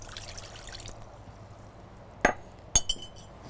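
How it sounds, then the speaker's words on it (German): Yeast stirred with sugar and water in a bowl gives soft liquid swishing followed by a few sharp clinks of a utensil against glass, close and quiet. "Mit Zucker und Wasser verrühren."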